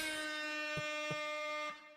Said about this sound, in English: Let's give an air horn for Charles